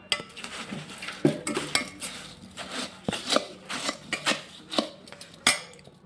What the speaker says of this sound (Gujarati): પછી લીંબુ હવે આપણે બધું જ મિક્સ કરી દઈશું